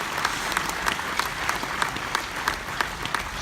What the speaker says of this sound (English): Huge round of applause for our low brass section.